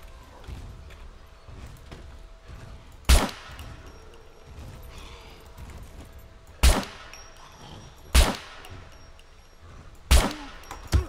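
Distant gunshots in the SCUM game ring out five separate times, each a sharp loud crack with a short echoing tail, spaced a few seconds apart over quiet ambient background.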